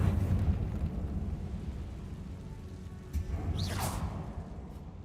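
A spell-cast whoosh in Hogwarts Legacy sweeps through a rumbling, stormy game soundscape, a brief rising swish near the middle standing out over the steady low background.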